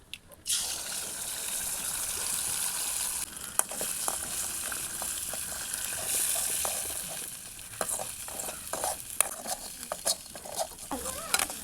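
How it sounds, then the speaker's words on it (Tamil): Egg sizzling loudly in a hot pan for a noodle egg fry, a continuous close frying hiss with occasional stirring scrapes and pops. "முட்டை நல்லா வதங்கணும்"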